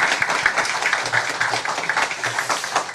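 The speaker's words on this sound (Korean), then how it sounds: "우리 한소리 찬양대 우리 경례의 박수 한번 하겠습니다." A church congregation clapping steadily for the choir at a Sunday service, a dense patter of applause that keeps going throughout, then starts to fade at the very end.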